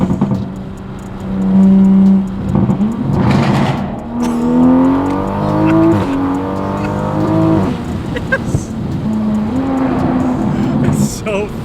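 An 800 hp A90 Toyota Supra running methanol injection accelerates hard, engine rising in pitch through the gears with loud in-cabin roar and brief shift breaks, while people talk over it.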